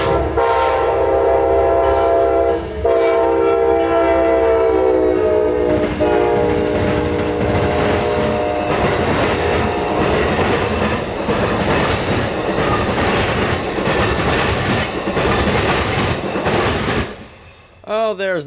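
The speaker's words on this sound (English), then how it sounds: "Oh, there's that Amtrak train that we missed." A loud Amtrak passenger train horn blasts repeatedly as the train rumbles close by, wheels clacking steadily over the rails before the sound drops away.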